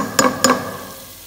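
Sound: ginger and garlic lightly frying in a pan for fish soup

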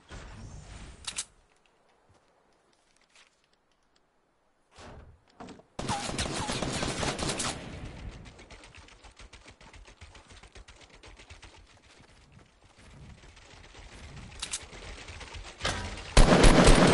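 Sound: gunfire in the video game Fortnite

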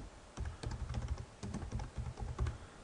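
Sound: typing on a computer keyboard

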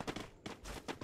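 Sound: Thompson submachine gun firing in video game Free Fire

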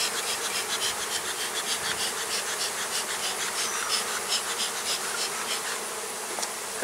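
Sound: honey bees buzzing around a hive

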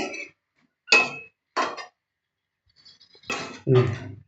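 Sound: covering cooking pot with a lid

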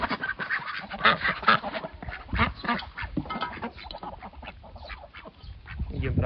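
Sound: ducks quacking while eating duckweed

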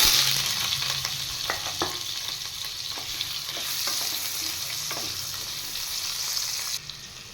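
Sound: frying cut potatoes and taro together in pan

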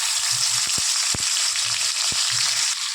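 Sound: spice batter sizzling as it is added to hot oil

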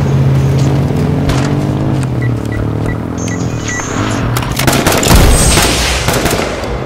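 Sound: gunfire in the video game H1Z1

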